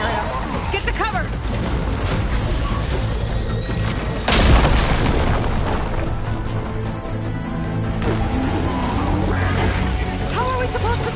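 A hostile machine in Horizon Forbidden West opens fire, with a heavy boom around the middle followed by sustained roaring, rumbling combat noise and game music, while voices speak over the action.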